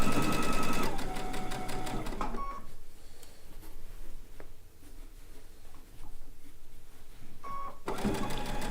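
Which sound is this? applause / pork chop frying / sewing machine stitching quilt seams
sewing machine stitching quilt seams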